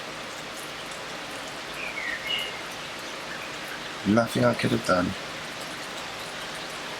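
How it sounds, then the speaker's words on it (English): Steady rain falls outdoors as a soft, even hiss throughout, with someone speaking briefly partway through and a faint bird call earlier on. "Now it's raining."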